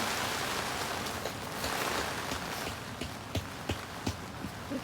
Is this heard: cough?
no